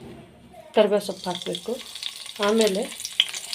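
Onion dropped into hot oil already crackling with curry leaves for a Goa-style prawn curry, a soft sizzle running beneath a person talking throughout.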